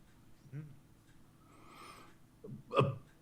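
A short, sharp sneeze bursts out near the end, preceded by a few quiet breaths and faint background murmuring.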